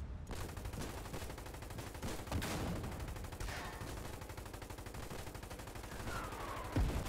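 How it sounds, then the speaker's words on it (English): Machine gun fire in the online war game Foxhole, with sustained rapid bursts of gunfire and scattered sharper shots echoing across a battlefield, heard without speech at a moderate, somewhat distant level. "constant machine gun firing down at us"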